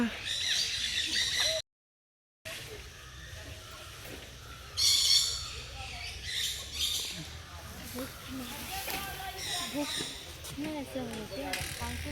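Many birds squawk and chatter loudly and continuously in an aviary at Bannerghatta zoo, layered with nearby people talking.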